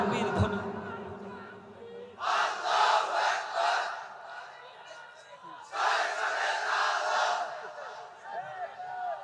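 A large crowd at a Bangladeshi Islamic sermon gathering chants takbir in unison, two loud sustained bursts of massed voices separated by a quieter lull with a lone speaking voice.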